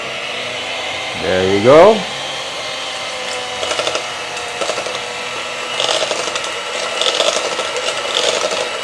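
Electric mixer beating egg for a rice cooker cake, a steady whirring motor with intermittent rasping bursts as the beaters work the bowl, close and continuous, with a brief spoken remark near the start.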